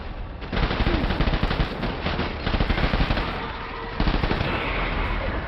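Rapid bursts of automatic gunfire in the video game Death Stranding, loud, dense and continuous, with rattling volleys crowding one another across the whole stretch.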